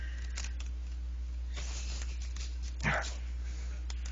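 A man imitates a dog's growl with his voice, a rough, steady rumble with a short louder burst near the end, over a constant low background hum.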